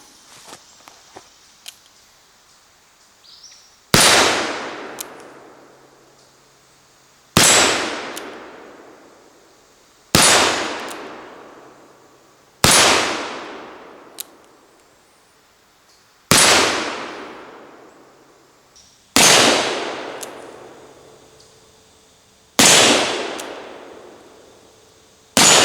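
A .36 caliber Uberti 1849 Pocket Model revolver fires about eight loud, sharp shots outdoors, each spaced a few seconds apart and trailing off in a long echoing decay. There is no talking between shots.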